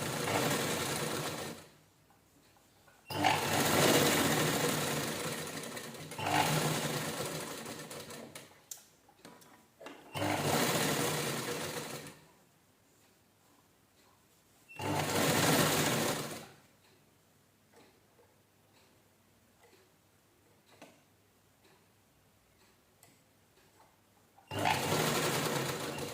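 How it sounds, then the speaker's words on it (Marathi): A sewing machine stitches around a round doormat made from an old T-shirt, running in several loud bursts of a few seconds each, separated by quiet pauses and small handling noises. "आपण पूर्ण राऊंडला स्टिच करून घेऊया"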